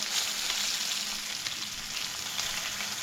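A small creek fish fries crispy in a pan with a constant, close, even sizzle and crackle that never pauses, and no voices.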